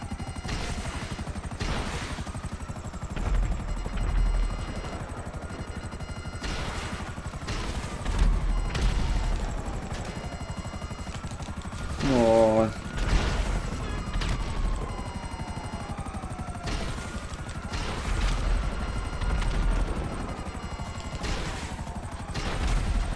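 Helicopter in Grand Theft Auto V, a steady rotor drone running throughout with bursts of gunfire and a brief crash-like clatter midway, fairly loud and continuous.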